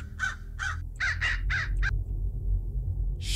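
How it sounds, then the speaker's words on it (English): Crow cawing inside the video game Hello Neighbor Alpha 2, a run of about six harsh caws in two clusters, close and clear over a low steady hum. "There's a bird in here."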